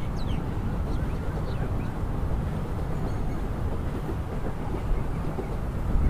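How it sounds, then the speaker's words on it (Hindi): A train pulling away in Train Simulator Classic, a continuous low rumble of wheels and rolling stock with faint clattering, steady and moderately loud without speech. "ये ट्रेन जा चुकी है दोस्तों"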